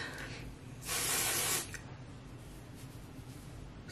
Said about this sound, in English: So I'm just using this Hot Toddy spray. This is like a heat protectant spray.